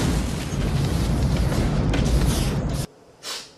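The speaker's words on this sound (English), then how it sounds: "having epic explosion-ridden action sequences" A big movie explosion in an action sequence roars as a loud, sustained blast of rumbling noise that cuts off abruptly, followed by a brief, quieter burst.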